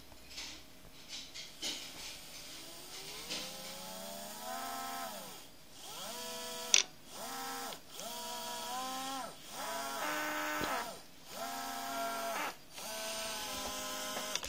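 A small 250:1 geared motor driven by a Baby Orangutan speed controller whines in repeated rising and falling sweeps, speeding up and slowing down in several cycles, close and fairly quiet.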